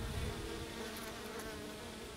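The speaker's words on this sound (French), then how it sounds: "il y a une guêpe qui semble s'affairer à quelque chose" A wasp (Vespula rufa) works at the entrance of its burrow, giving a close, continuous buzzing drone that holds steady for about two seconds with no other sounds.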